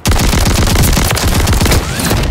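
Rapid bursts of automatic shotgun fire in a shooter game, dense repeated blasts back to back, loud and close for about two seconds with no talk.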